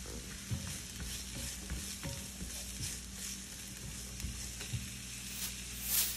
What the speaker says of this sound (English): We're going to stir fry the other vegetables